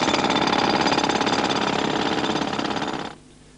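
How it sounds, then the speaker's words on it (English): Pneumatic road drills hammer loudly and continuously on a Sunday street, a dense close rattling that stops abruptly near the end. "the deafening dawn chorus of the drills"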